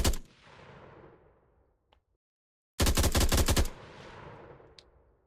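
Gunfire from a rapid-firing weapon in a Vietnam-era first-person shooter video game: an opening shot with a ringing tail, a pause, then a loud, close burst of about a second of automatic fire that echoes away.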